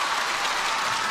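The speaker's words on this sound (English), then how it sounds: "if you can hear some loud cheering, a result has just happened on table 4" Crowd at a table tennis team match cheering and clapping, a dense wash of applause heard briefly at a distance.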